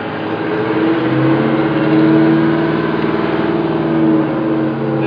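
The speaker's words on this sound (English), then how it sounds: "You can hear what it's like inside in our bedroom." Inside the rear bedroom of an RV on a test drive, the engine beneath the bed gives a steady, loud, low droning rumble with slight swells in revving, continuous throughout with no talk.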